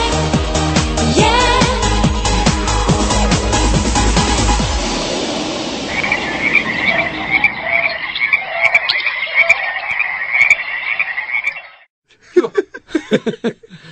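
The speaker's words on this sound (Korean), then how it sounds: "그 울음소리는 청개구리 울음소리였습니다." Tree frog croaking in a long series of rapid raspy calls, heard after a fading musical passage and ending alone with a few brief loud croaks.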